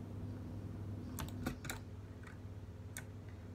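Scattered clicks of a computer keyboard during Minecraft play, a handful of quick keystrokes, close but faint, over a constant low hum with no talk.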